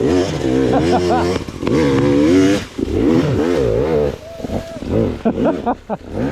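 A motorcycle engine revs up and down in close, rough surges as the rider works the clutch, with the pitch rising and falling over a few seconds.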